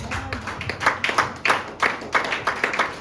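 A church congregation claps together after a scripture reading, a burst of loud, close, irregular hand claps filling the whole moment with no voices over it.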